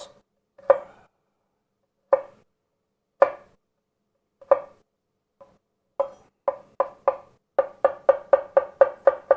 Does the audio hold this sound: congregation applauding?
no